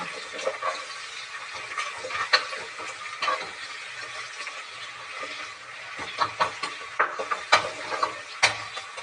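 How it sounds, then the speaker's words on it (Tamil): Onions frying in a pan for hotel-style ghee rice make a soft, fairly faint sizzle broken by scattered clicks and taps of a spoon stirring, with no voices. "வெங்காயம் நல்லா ஃப்ரை ஆகட்டும்"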